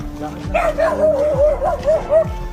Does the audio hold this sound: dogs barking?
yes